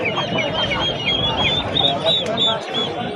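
A cluster of silkie chickens clucking and peeping close by, a busy overlapping chatter with voices mixed in.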